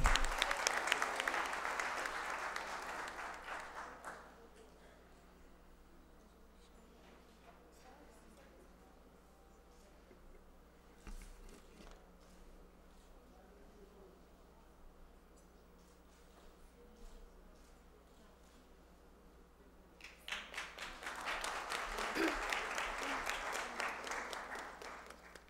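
Audience applause at a formal ceremonial session of a chaplaincy college, a full burst of clapping at the start that dies away into a quiet room, then a second round swelling up near the end.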